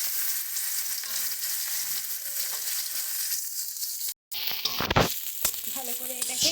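Cumin seeds, dried red chillies and chopped onion sizzle in hot oil, a continuous close crackling hiss that cuts out for a moment, then returns with a louder burst and stirring.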